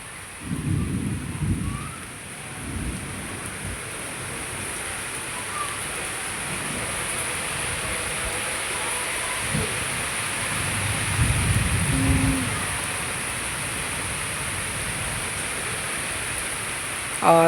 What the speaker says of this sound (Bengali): দেখুন একটা বৃষ্টি এসছে স্বস্তির বৃষ্টি সত্যি তো বৃষ্টি হচ্ছে